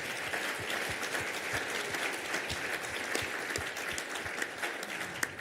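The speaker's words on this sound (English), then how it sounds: "would you give the committees and the chairman a really big round of applause?" An auction audience applauding the committees and chairman, a sustained dense clapping from a sizable crowd, steady and fairly distant throughout.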